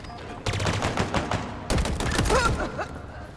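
Automatic weapon fire in the shooter game Halo Infinite: two loud, rapid bursts of shots, the second beginning after a brief break, with no talking over them.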